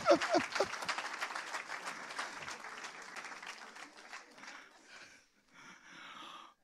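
A church congregation claps in acclaim of the Lord, a loud burst of applause at the start that thins into scattered, quieter clapping and fades near the end.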